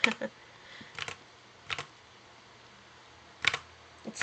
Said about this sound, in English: just hearing my keyboard clack and all that